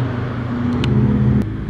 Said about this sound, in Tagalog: May mga nagkakarerang mga kotse, oh.